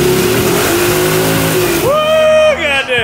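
A Honda car engine revs hard during a burnout, roaring loudly and close, then climbs in pitch and drops off near the end, with a voice shouting over it.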